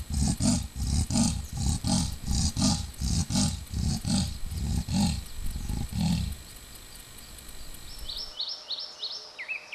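Male Amur leopard calling to a female in the Siberian tiger forest, giving a series of loud, rhythmic, rasping sawing grunts close by that stop partway through, followed by faint bird chirps.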